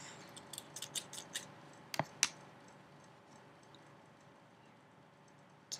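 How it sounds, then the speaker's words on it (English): Scissors snip a strand of knitting yarn, heard as a few soft, close clicks and one sharper snip in an otherwise quiet room. "you try to find your scissors"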